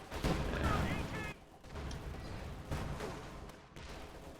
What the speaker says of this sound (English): Oh, this could be another nice grenade.